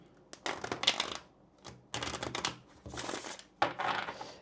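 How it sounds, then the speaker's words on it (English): Tarot cards being shuffled by hand in bursts of crisp riffling and flapping, quiet and close, with short pauses between shuffles. "Let me go ahead and get one more shuffle in here."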